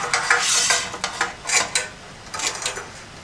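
Metal Detroit-style pizza pans, fresh from baking crusts, clank and scrape as they are handled, giving several sharp knocks and rattles at irregular intervals, close by and with no talking.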